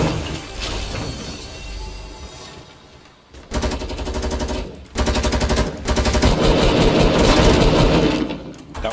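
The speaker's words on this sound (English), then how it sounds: "I'm already being shot at." Automatic gunfire rattles loudly in a squad shooter video game, coming in several long rapid bursts separated by brief pauses, with no talking.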